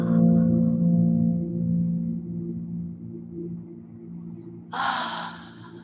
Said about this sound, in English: Chalice breath.